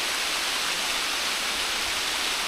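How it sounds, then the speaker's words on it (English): A small waterfall beside a public footpath pours with a constant, even broadband rush, steady and moderately near, with no voices. "but still a beautiful waterfall nonetheless."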